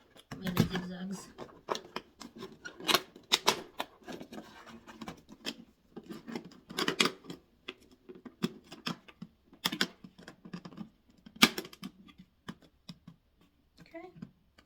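Scissors snip zigzags into paper for a large paper flower center, giving a steady run of short crisp cuts and rustles, close to the microphone, with a person talking intermittently over them.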